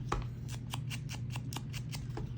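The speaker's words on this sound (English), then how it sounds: "But we'll make do with just the scissors." Scissors snipping at a layered craft tag, a quick run of about a dozen light, rapid cuts at a steady rhythm, faint and close, with no talking.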